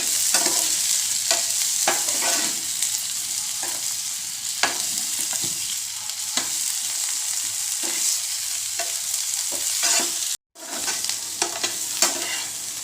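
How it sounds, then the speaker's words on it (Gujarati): Potatoes fry in hot oil until crunchy, a loud continuous sizzle and crackle with repeated scraping strokes of a spatula throughout and a brief break near the end. "આપણે બટેકાને ફ્રાય કરી લેવાના છે થોડા એવા ક્રન્ચી એવા થાય એવી રીતે આપણે બટેકાને ફ્રાય કરવાના છે"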